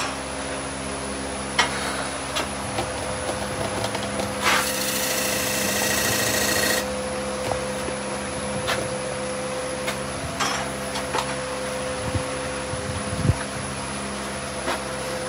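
Wood lathe turning a small dovetail tenon on a raised bowl blank: a steady motor hum with continuous tool scraping, a harsher cutting burst in the middle and a few light knocks.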